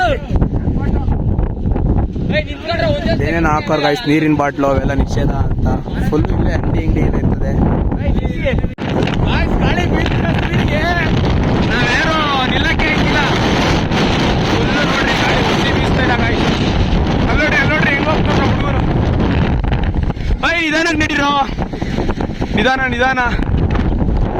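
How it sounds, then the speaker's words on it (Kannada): Strong wind buffeting the microphone on the climb to Mullayanagiri, Karnataka's highest peak, a steady loud roar running the whole time while someone talks over it. "ಫುಲ್ಲು ಗಾಳಿ ಅಂದ್ರೆ ಗಾಳಿ ನಮ್ನೆ ಹಂಗೆ ಆಚೆ ಎಸಿತೈತೆ"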